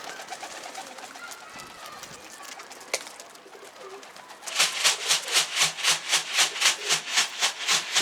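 Pigeons flying overhead set off a close, rapid run of rhythmic wing claps that suddenly grow loud after a quieter stretch of outdoor noise.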